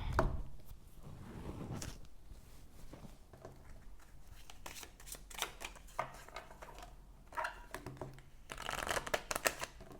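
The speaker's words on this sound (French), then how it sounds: "je vais prendre une carte de l'archange Michael" Oracle cards from an Archangel Michael deck shuffled and drawn by hand, soft papery riffles and flicks in several bursts, close and fairly quiet, with no talk.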